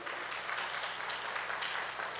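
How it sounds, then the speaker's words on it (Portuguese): Steady, dense applause from a church congregation, clapping continuously and evenly throughout without pause. "eu queria pedir até uma salva de palmas para eles ali"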